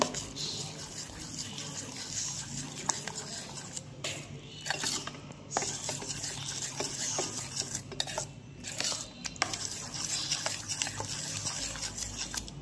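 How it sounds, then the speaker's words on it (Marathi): Rava appe batter being stirred after salt is added, a spoon scraping and clinking steadily against the bowl with short pauses, close and continuous throughout. "चवीनुसार मीठ टाकून घ्यायचं, चांगलं मिक्स करायचं"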